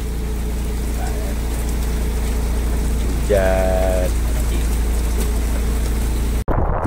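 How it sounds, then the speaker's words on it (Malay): Steady broadband hiss of rain pours throughout with a low rumble underneath; a brief voice or tonal call rises midway, then a sudden cut near the end. "Hujan geng, hujan."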